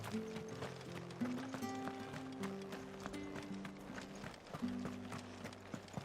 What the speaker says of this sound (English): So we'll just mosey on over on our noble steed, Ambrosia.